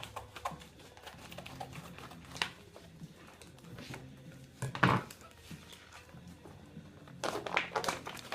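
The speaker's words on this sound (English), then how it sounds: "so I'm going to cut it about right here." Homemade brat sausage with jalapenos and garlic-pepper seasoning being cut with a knife on a board, faint scattered taps and clicks with a couple of sharper knocks in a quiet room.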